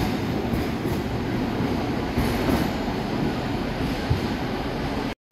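A bi-mode diesel-electric train, a Class 88 that runs mainly on electric power, passing through Carlisle station: a loud, continuous rumble with faint rail clatter, steady and close, cutting off abruptly at the end.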